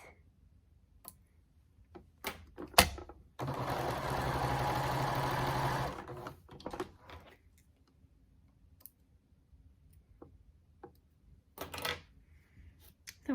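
A sewing machine stitches together pieces of a reversible microwave bowl cozy, a steady mechanical run of about two and a half seconds set between scattered clicks and handling taps, close and moderately loud with no voices.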